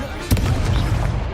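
A Confringo fire-spell explosion in the Hogwarts Legacy video game: one sharp, loud blast followed by a sustained, rumbling roar that fades slowly.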